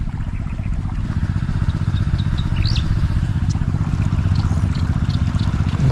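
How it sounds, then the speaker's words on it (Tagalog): A small engine runs steadily near a rice field on a fishing trip, a loud, close, continuous low drone lasting the whole stretch with no break. "Papaantarin ko lang naman po yung makina"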